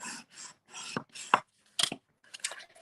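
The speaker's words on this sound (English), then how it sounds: "So fold into that raised line or the mountain and give it a good burnish." A bone folder burnishing the fold of a scored paper card in short rasping rubs, several quick strokes close up with brief pauses between them.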